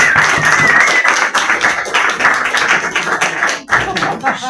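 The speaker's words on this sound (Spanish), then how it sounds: "un fuerte aplauso para él" Applause from an audience at a literary gathering honoring Walter, a short burst of dense clapping and tapping that fades slightly near the end.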